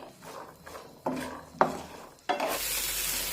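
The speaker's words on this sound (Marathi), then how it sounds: "आता एकसारखं हे मटार असे हलवून घेऊया म्हणजे ते सगळीकडून एकसारखे भाजले जातील" Green peas stirred and roasted in a pan for mutter cutlets, with several distinct scraping stir strokes and a soft sizzle that swells into a steady, louder frying hiss near the end.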